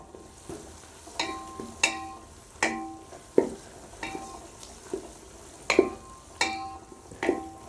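Tomatoes sautéing in hot oil with green chillies for a seeraga samba chicken biryani, a soft steady sizzle broken by repeated sharp scrapes and taps of a spatula stirring the pan at close range.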